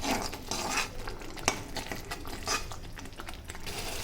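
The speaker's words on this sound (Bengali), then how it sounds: "এখন মশলাটা কষিয়ে নেব" Cumin powder, chilli powder and salt masala being stir-fried in a pan, a spatula scraping and clinking in quick repeated strokes over a soft sizzle.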